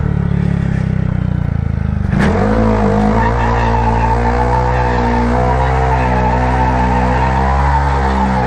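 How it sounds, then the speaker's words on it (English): A 2022 Honda Grom motorcycle skids on its front wheel, a loud sustained scrubbing tire noise over steady engine drone, with a sharp squeal burst early on and no talk. "You guys ever skid on your front wheel?"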